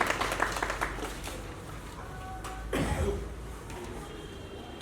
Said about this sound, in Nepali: गुरुजीलाई एकचोटि ताली बजाएर स्वागत गरौँ।